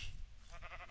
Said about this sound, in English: listen, don't kill the sheep